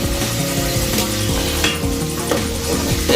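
Chopped onions fry in a pan on a clay stove, a loud continuous sizzle with crackles and a few clinks of a utensil against the pan, close up.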